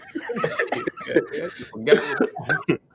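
A few short, sharp coughs break up ongoing talk and laughter, with voices close and fairly loud throughout.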